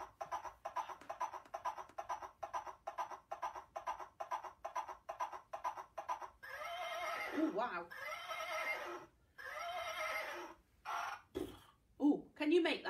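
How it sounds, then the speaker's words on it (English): A horse neighs and whinnies loudly several times, with brief speech and an exclamation from people nearby. "can you make that horse noise at the end?"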